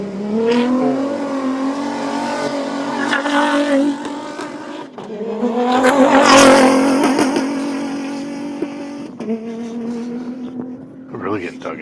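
A rally car launches off the start at the Abu Dhabi Desert Challenge desert rally, its engine revving hard through rising gear pulls, loud and near, with voices talking over it.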